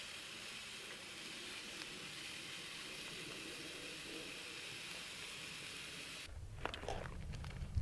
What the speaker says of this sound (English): the LittlBug is doing his job, keeping me warm, cooking up these steaks